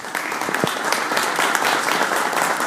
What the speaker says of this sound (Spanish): Un aplauso para Margarita.